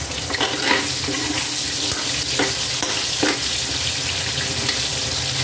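Carrots tipped into a pan of chicken curry sizzle and fry steadily with intermittent stirring clatter, a continuous close crackle with no talk.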